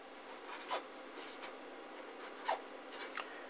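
Pen writing numbers on paper, faint scratchy strokes in short bursts with a few sharper taps, close and quiet with no voices.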